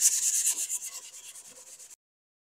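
Sandpaper of 220 grit rubs over filler on a styrofoam niche in steady, rhythmic back-and-forth strokes, close and fairly loud, for about two seconds before stopping abruptly.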